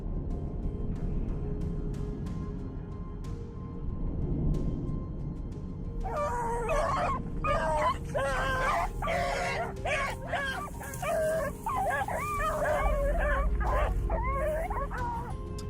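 Hunting dogs fitted with GPS collars bark and whimper in a close, continuous run of yelps and howls, starting after a quieter stretch of low rumble and carrying on until the end.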